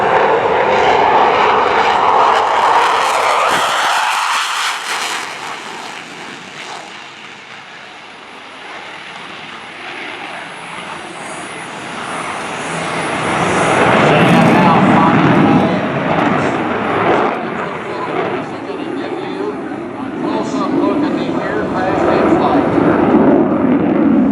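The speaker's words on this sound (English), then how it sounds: "Now we've had a bolter. The wire is snapped. Full power is added. Rotates the nose, retracts the landing gear." A US Navy F/A-18F Super Hornet jet at an airshow goes to full power after a bolter, a loud roaring engine blast that surges, dips briefly and swells again, with a commentator talking over it.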